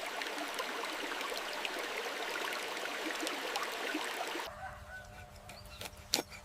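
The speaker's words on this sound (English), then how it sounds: "Constant, soothing sound of flowing water." A forest stream makes a constant, even rush of flowing water for several seconds, then gives way to a quieter scene with a few sharp sounds.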